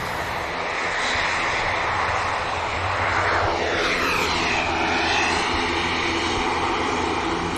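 An EasyJet airliner rotates and lifts off during takeoff at Manchester Airport, giving a loud, steady jet roar with a whining tone that sweeps downward as it climbs away.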